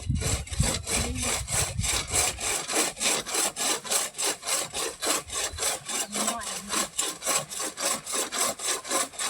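A hand saw cuts through wood in steady back-and-forth strokes, close and rhythmic, each rasping pass clearly separated.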